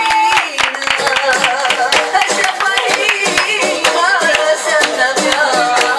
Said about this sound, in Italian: Un applauso al nostro cameraman.